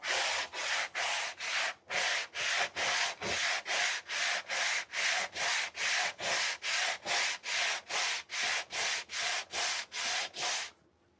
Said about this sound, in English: I'll run through the grits and radius that fretboard out